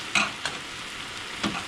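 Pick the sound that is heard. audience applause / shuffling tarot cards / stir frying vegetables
stir frying vegetables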